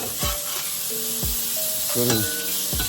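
Mushrooms and burgers sizzling on a KC combo griddle, a steady loud frying hiss throughout, with scraping spatula strokes and short tonal clanks from the utensil; someone speaks briefly over it.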